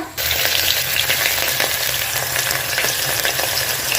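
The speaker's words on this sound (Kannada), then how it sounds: "ಒಂದು ತರ್ಟಿ ಸೆಕೆಂಡ್ಸ್ವರೆಗೂ ಅದನ್ನು ಫ್ರೈ ಮಾಡ್ಕೊಳ್ಳೋಣ" Spices fry in hot oil with a loud, continuous close-up crackling sizzle that holds steady throughout.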